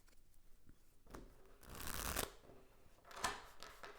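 Tarot cards being shuffled by hand during a reading, several soft riffling bursts with brief pauses between, the loudest swell near the middle, close and fairly quiet with no talking.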